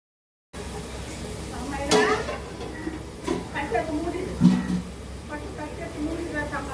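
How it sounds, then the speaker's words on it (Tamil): Chili powder frying in hot oil while being stirred, giving a steady low sizzle with a few sharp scrapes of the spoon against the pan, and a voice talking faintly in the background. "போட்டுட்டு நல்லா கிளறி விட்டுட்டு அந்த பச்சை வாசனை போகிற வரைக்கும் நல்லா அந்த எண்ணெயிலேயே வந்து வதங்கணுன்றதுக்காக"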